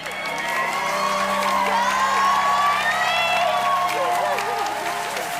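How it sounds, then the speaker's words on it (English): A school audience cheers and applauds for a fifth-grade contestant named Annalise, a loud sustained roar of clapping, shouts and whoops with children's voices, steady throughout. "You guys want to do a cheer for Annalise?"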